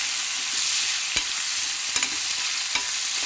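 Tomatoes frying in a pan for malai kofta curry, with a steady close sizzle and a few sharp clinks of a spoon stirring, no voices.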